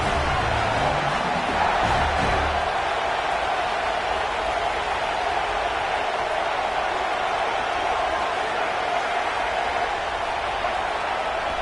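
A packed football stadium crowd roars in a steady, loud, unbroken wall of noise on a fourth-and-4 play, the din rocking the venue enough to force a false start.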